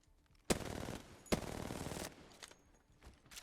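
Automatic weapon fire in the video game Apex Legends, two loud rapid bursts of shots, each lasting under a second, close and sharp, followed by quieter scattered game sounds, with no talking.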